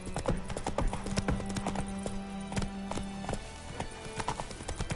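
Horse hooves clip-clopping steadily in The Witcher 3 video game, a brisk close rhythmic trot over an outdoor ambience, with a brief whinny-like tone mixed in.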